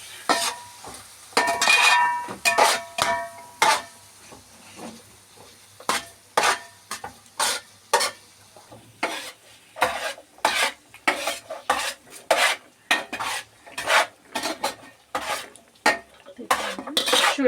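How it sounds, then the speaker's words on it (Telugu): Cooked rice is stirred with sauces and vinegar in a frying pan for spicy fried rice: a long series of sharp spatula scrapes and clanks against the pan, irregular but frequent, loud and close, over a faint sizzle. "ఇప్పుడు రైస్ వేసి మొత్తం కలియబెడుతున్నాను అనమాట"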